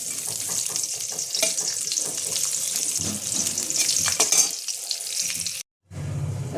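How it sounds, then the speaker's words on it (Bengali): Bitter gourd sizzles and crackles steadily in a little hot oil in a Bengali home kitchen, a close, continuous frying hiss with light stirring, briefly cut by a moment of silence near the end. "উচ্ছেটা আমি একটু লাল করে ভাজবো, তাহলে তেতো লাগবে না।"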